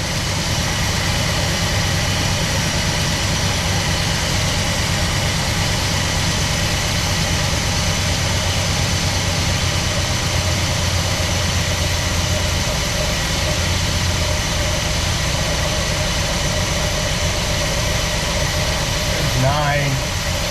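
Engine of a 1967 Plymouth Belvedere II idling at about 1,000 RPM, a loud continuous steady drone heard up close throughout, with a brief sweeping tone near the end and people talking over it.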